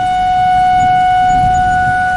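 An outdoor tornado warning siren blares a steady, sustained tone, loud and unbroken across the whole stretch with no talking.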